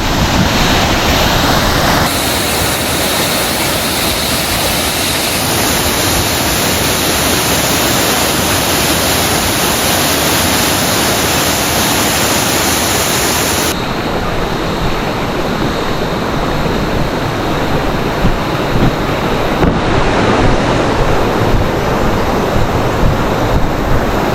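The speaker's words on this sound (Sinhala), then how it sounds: "ඒ තියෙන මෙතනින් කඩාගෙන හැලෙන්නේ දුම්පුස් ඇල්ල." Dumpus waterfall at Kuruwita, Sri Lanka pours down in a loud, constant roar of rushing water close by, broad and unbroken, with some wind buffeting on the microphone and no voices.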